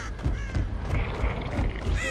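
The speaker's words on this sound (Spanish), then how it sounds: "El pájaro está ahí." A crow caws repeatedly in the horror video game Dead by Daylight, a run of harsh, scratchy calls spaced across a couple of seconds over a steady low ambient rumble.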